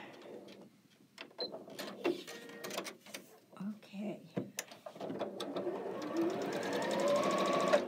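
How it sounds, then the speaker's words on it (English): A small sewing machine stitching a leader and ender fabric scrap: short whirring bursts and mechanical clicks under a person speaking, then a steady, louder run of stitching toward the end. "I'm sewing on this leader and ender"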